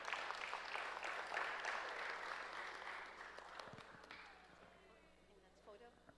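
Sustained applause from an audience honouring award recipients at a senator's certificate presentation ceremony, loud at first and gradually fading away over several seconds, with some talk underneath.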